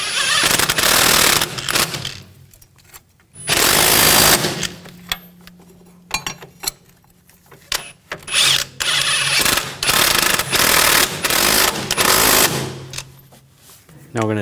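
An impact wrench tightens the front strut nuts on a 2000-2006 BMW X5 with loud, close bursts of rattling whirr, some short and some long, separated by quiet pauses and softer mechanical clicks.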